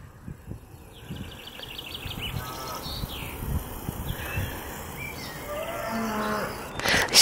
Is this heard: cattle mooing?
yes